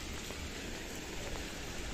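Steady rain falling outdoors on a city street, driving at an angle, a soft continuous hiss and patter with no voices, heard close and even throughout.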